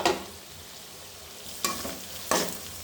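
Dried fish frying in a pan with a little salt: a steady, quiet sizzle broken by two short scraping stirs near the end, with no voices.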